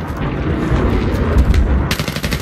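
Rapid bursts of automatic gunfire in the video game Battlefield 3, loud crackling volleys over about two seconds with a sharper burst near the end.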